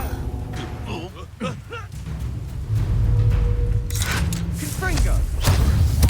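Heavy spell impacts land with deep booms and thuds in the wizarding action game Hogwarts Legacy, a loud rumbling crash swelling midway and continuing to the end beneath shouted voice lines.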